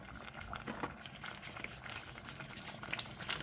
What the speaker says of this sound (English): We're going to let this boil after we get it dissolved in here.